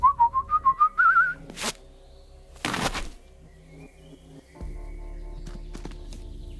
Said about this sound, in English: Whistle two times, leave delivery on doormat, and exit the area.